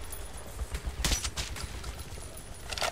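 Gunfire in the video game Metro 2033 Redux, with a burst of rapid shots and scattered single reports over a steady, noisy background.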